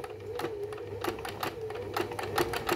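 A sewing machine runs slowly, stitching a facing onto a blouse sleeve, with a steady motor hum and a rapid, even needle clatter close up, no talking.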